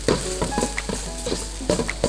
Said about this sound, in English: it's a very, very quick sort of a dry stir fry with the garlic